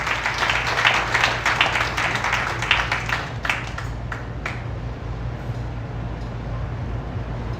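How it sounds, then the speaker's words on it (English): Applause from an audience at a health camp volunteer appreciation meeting, a thick burst of clapping that thins out midway into scattered claps over a low steady hum. "Tushar Patel, please give him a big round of applause."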